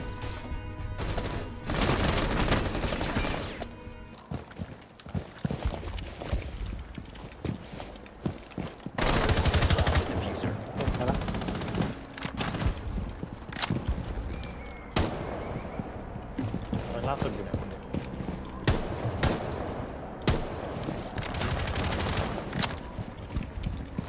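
Gunfire in Rainbow Six Siege, busy and continuous across the clip, with dense bursts and sharp cracks layered over loud game noise, including a heavy blast partway through.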